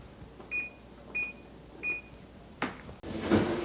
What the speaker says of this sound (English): I'm setting my timer for 3 minutes and checking then.